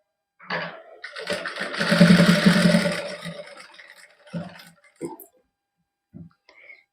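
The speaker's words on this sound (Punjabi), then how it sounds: "ਇੱਥੋਂ ਨਾ ਆਪਾਂ ਸਲਾਈ ਸ਼ੁਰੂ ਕਰਨ ਲੱਗੇ" A sewing machine stitches a lace-trimmed suit lining in a short burst of fast mechanical whirring that swells and fades, followed by a few brief clicks and knocks in near silence.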